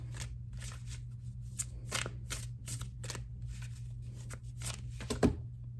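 A tarot deck is shuffled by hand, giving a series of crisp riffling card bursts in an uneven rhythm over a low steady hum, close and moderately quiet, with no talk.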